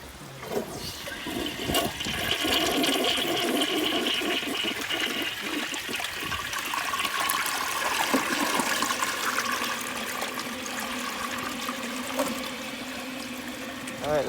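A vintage 1986 Kohler Wellworth toilet flushes up close, a loud steady rush of swirling water lasting over ten seconds, then easing into refill trickle, with no talking over it.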